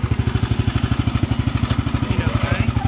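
A tractor engine runs steadily close by on a rough track where vehicles are getting stuck, a loud rhythmic chugging pulse with no pauses.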